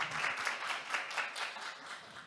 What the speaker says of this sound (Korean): 발표해주신 포시즌스 팀을 위해서 다시 한번 큰 박수 부탁드립니다